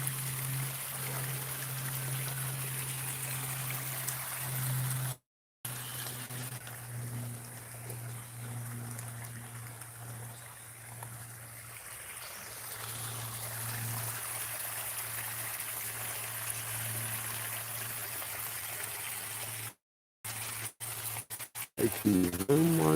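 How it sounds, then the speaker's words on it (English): Creek water flows steadily outdoors in a broad, even rush that runs almost without break, with two brief dropouts and some faint handling noise at the end. "I love the sound of water like this."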